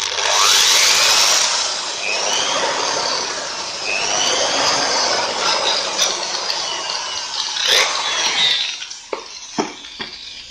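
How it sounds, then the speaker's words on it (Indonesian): A power drill whines loudly as it bores a hole for installing lightning protection on a wifi network, its pitch sliding up and down, then stopping, with a few short bursts and clicks at the end. "kita bor."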